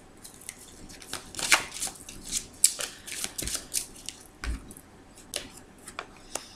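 Tarot cards are handled on a table in a series of crisp, irregular slaps, snaps and shuffling rustles, close by with quiet pauses between bursts and no talking.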